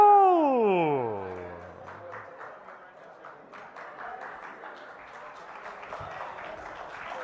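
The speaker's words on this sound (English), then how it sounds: "thank the 4 people who just applauded for you" A few scattered audience members clap at a swing-band show with a master of ceremonies, a thin spattering of applause following a sung or spoken phrase at the start, with murmuring crowd chatter mixed in.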